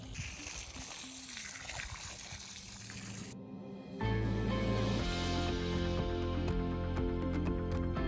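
Water runs from a hose while trees are watered outdoors, first a soft broad trickle and splash, then a louder, fuller gush of flowing water that continues steadily.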